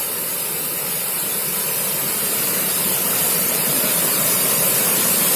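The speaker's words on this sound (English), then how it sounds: "Yes, we are here at Mankayam Waterfalls." Rushing water at Mankayam Waterfalls roars as a dense, constant broadband hiss, close and loud throughout with no break.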